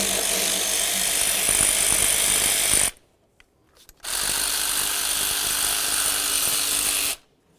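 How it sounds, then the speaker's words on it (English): A 10mm nut is run off the throttle body bracket of a 2009-2020 Dodge Journey 3.5L with a power tool, giving two loud, steady buzzing bursts separated by a short near-silent pause. "go ahead and remove this 10mm headed nut right here, and then move down here to the 13mm headed bolt right there"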